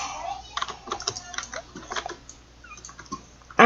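Rapid, irregular computer keyboard button clicks from a player pressing keys while playing Fortnite, close and fairly loud, with a brief louder burst at the end.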